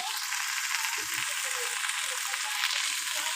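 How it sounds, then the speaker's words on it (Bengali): Vegetables fry with ginger paste in a pan, making a steady, close sizzle that carries on throughout, with a few faint knocks of stirring. "সবজি দিয়ে ভালো করে এই যে ভেজে নিচ্ছি"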